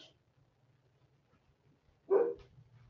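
A dog gives a single short, fairly loud bark in a quiet indoor space, with faint shuffling before and after.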